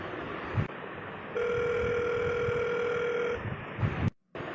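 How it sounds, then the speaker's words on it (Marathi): A steady electronic telephone tone with layered pitches hums for a couple of seconds over background noise, then stops abruptly before a short dropout. "थांब मनाला फोन लावू आपण"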